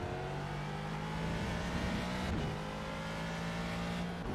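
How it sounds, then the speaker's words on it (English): GT4 race car engines in the iRacing sim at Road America drone loudly and continuously, holding a steady high whine with a brief surge midway. "it sounds like GT4's here."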